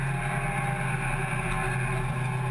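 A hot hatch race car engine drones at Cadwell Park, held in sixth gear at low RPM, giving a loud, steady, unchanging tone with a strong low hum and no other sounds.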